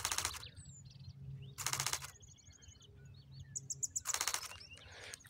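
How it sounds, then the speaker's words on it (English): Chipping sparrow calling on a mountain hillside in spring, with three loud bursts of high dry rapid trills and scattered thin chirps from other birds in between, over low wind rumble. "I think this guy over here is a chipping sparrow."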